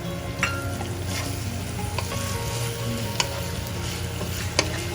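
A mint chicken mixture sizzles steadily in a pan over a medium flame, a constant close frying hiss with occasional small pops and ticks.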